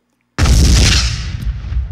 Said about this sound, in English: That's just a nice, thick explosion there.